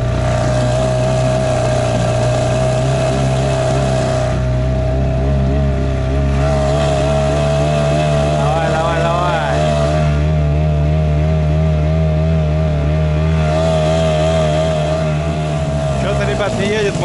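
An outboard boat motor runs steadily on a frosty night, its droning engine tone holding throughout with slight pitch shifts as the throttle changes.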